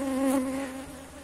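A honey bee swarm buzzing at a beehive, a steady close drone with a clear pitch and no voices.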